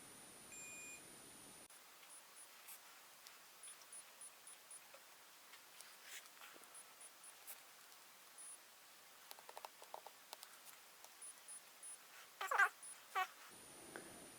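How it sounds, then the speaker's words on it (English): A multimeter on a continuity test of a Suzuki GSX1300R Hayabusa starter gives faint, scattered short beeps and a few brief clicks over a quiet background, with a louder beep burst near the end. "And then we should have continuity between all of these."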